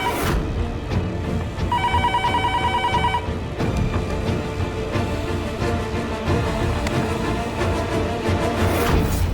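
A telephone rings with a rapid electronic trill lasting about a second and a half, set against steady background music and noise.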